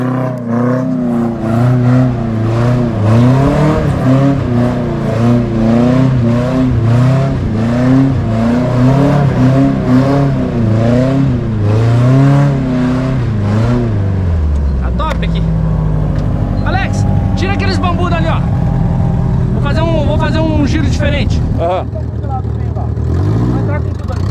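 A Chevrolet Chevette engine revs hard and loud with rising and falling pitch, repeated surges through the first fifteen seconds, then settles toward idle while people talk and shout over it.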